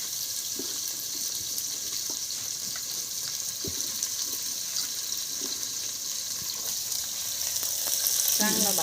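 Onions fry for chicken biryani in a pot on a wood-fired stove, a steady bright hiss that runs throughout with faint scattered taps and a slightly louder rustle of stirring in the last second.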